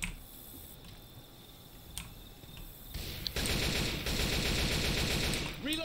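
Automatic AK rifle fire in Left 4 Dead 2, rising into a dense, loud continuous burst in the second half after a quieter stretch with a few isolated cracks, with game ambience underneath.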